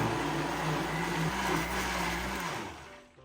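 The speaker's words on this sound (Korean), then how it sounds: "뚜껑을 닫고 갈아주세요." A countertop blender whirs loudly and steadily as it purees soy milk, tofu, peanut butter and salt for cold Korean soybean noodle soup, the motor winding down at the end.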